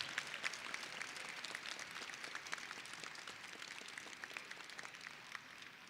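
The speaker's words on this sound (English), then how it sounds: "Let's give them another big round of applause." Applause at a district swearing-in ceremony, a sustained crowd of hands clapping steadily throughout, fairly distant and even in level with no voices over it.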